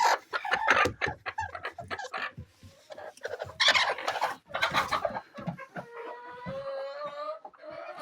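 Young broody laying hens sit on their nests and cluck in close, loud, irregular bursts, with drawn-out calls and some crowing-like notes toward the end.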